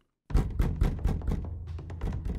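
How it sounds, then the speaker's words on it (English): Wooden cabin door thumping against its plank brace in the video game Reverie: Ebon Light, a rapid series of heavy knocking thuds after a brief silence, loud and close with no talk. "I watched as the door thumped against the plank"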